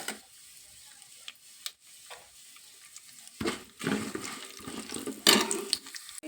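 Peanuts and urad dal fry in hot oil, giving intermittent bursts of sizzling and crackling separated by quiet gaps, growing louder toward the end.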